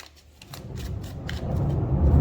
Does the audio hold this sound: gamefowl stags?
no